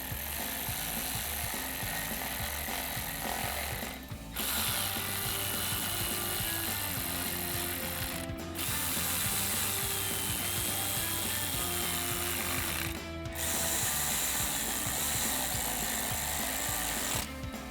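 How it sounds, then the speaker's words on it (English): A ratchet with a 7mm socket tightens bolts holding LED fog lights on a 2018–2023 Mustang GT, a steady rapid clicking drone in long runs broken by three brief pauses, fairly loud and without talk. "And we'll tighten them down with our 7mm socket."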